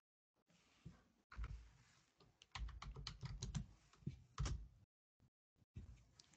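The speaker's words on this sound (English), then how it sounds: "let me type this command here, mget, and copy this file here" Keys clatter on a computer keyboard as a Linux command is typed, quick uneven bursts of close, quiet keystrokes separated by short pauses, with no voice.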